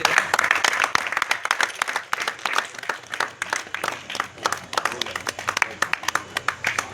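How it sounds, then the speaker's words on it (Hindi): Sustained audience applause at a mushaira and poetry gathering, a crowd clapping steadily with dense overlapping claps that swell and dip over several seconds. "तालियां में तालियां"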